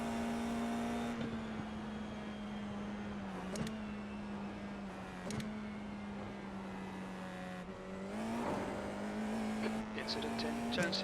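A Formula 4 race car engine at Mount Panorama in a VR racing sim, a steady droning tone that dips and surges as the throttle is feathered, with brief squeals and louder revving near the end, under a commentator's voice.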